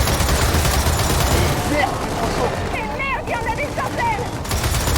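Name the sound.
machine gun turret gunfire in the video game Gears of War 4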